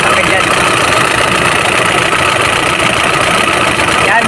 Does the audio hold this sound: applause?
no